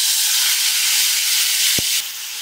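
Two finely chopped tomatoes hitting hot oil with fried urad dal in a frying pan, giving a loud, steady, close hiss of sizzling that drops slightly near the end.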